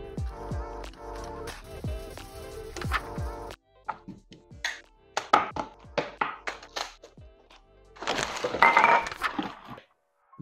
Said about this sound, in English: One scallion or green onion. We're gonna julienne it in nice and long skinny strips